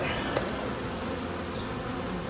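Honeybees buzzing around an opened hive during an inspection, a dense continuous close swarm drone with individual bees zipping past.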